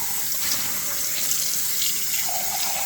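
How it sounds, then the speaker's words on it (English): Organic black beans rinsed under a running kitchen tap, a steady close hiss of flowing water splashing through the beans in a sink, continuous and alone with no talk. "So just rinse those black beans."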